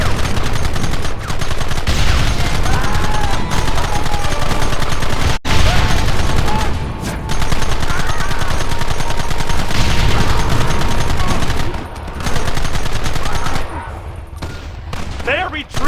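Sustained gunfire in the video game Red Dead Redemption: dense, loud, continuous volleys of shots with sharp cracks, nearly unbroken for most of the stretch before thinning out near the end, with shouted voices mixed in.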